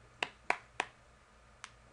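A lone person claps several times to applaud himself: three sharp claps in quick succession, a pause, then one softer final clap, close and isolated in a quiet room.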